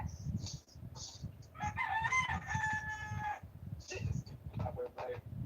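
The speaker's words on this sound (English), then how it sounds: "Oh, a rooster." A rooster crows once in a drawn-out, strained call in the middle of the clip, set against people talking with muffled background noise before and after.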